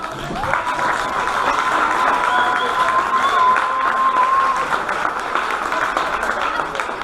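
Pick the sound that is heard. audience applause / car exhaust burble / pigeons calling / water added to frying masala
audience applause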